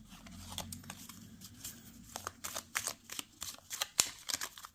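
Lenormand cards are shuffled for a reading, producing quick riffling flicks and soft slaps that quicken into a rapid close-up patter with a sharp snap near the end, alone without speech.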